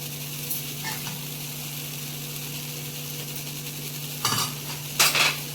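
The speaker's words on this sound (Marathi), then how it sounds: "आता आपल्याला सर्व भाज्या पसरून घेणार आहोत" Close kitchen sounds of a spoon scraping and clinking against a pot while vegetables are spread over a rice layer for veg biryani, mostly quiet with a few sharp metallic scrapes near the end.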